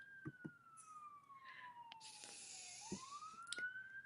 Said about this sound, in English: I hear a siren going past us.